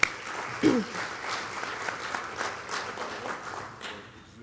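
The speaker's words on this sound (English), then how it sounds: "Let's give him a round of applause." Applause fills a conference hall at a broadband industry summit, a steady wash of many hands clapping that starts sharply and slowly thins toward the end, with faint voices mixed in.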